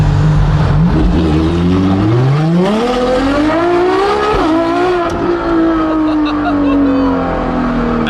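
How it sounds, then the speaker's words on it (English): A loud, raspy straight-piped Ferrari LaFerrari hybrid hypercar engine revs up through rising gears on a freeway, pitch climbing and dropping as it accelerates hard, with a sharp exhaust bark and no talking. "Daily driven, straight pipe LaFerrari"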